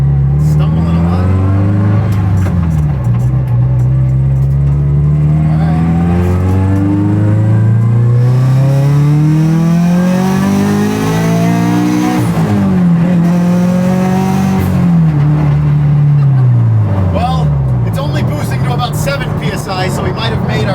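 A turbocharged Toyota FRS worn by years of drifting revs up and down repeatedly, its engine note rising and sagging unevenly as it stumbles, loud and close, with people talking over it.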